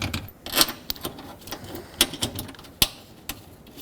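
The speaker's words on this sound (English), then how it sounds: "Let's put all the mounting bolts back." Wiper transmission mounting bolts being threaded in and tightened on a 2009-2013 Honda Fit, giving scattered small metallic clicks and taps at uneven intervals, close and fairly faint, with no talk.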